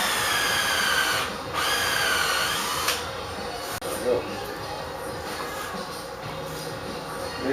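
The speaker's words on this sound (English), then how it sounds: "Here you gotta drill this." A power drill bores into wood while an Aztec huehuetl drum is built, whining loudly and close in steady bursts with brief pauses and shifts in pitch, and voices can be heard around it.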